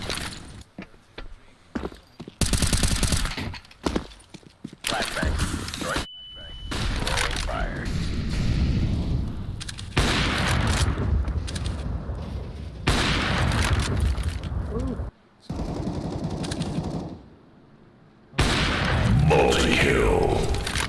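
Flashbang and gunfire in the video game CS:GO: several heavy booms and thuds with bursts of rapid shots, broken by short gaps of silence, with players talking over much of it.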